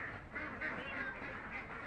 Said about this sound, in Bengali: হাঁসগুলো দেখো